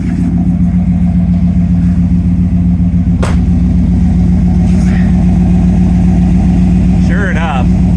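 A 1960 GMC truck engine runs loud and growly at a steady idle, its low rumble filling the clip from start to finish, with a brief higher squeal near the end.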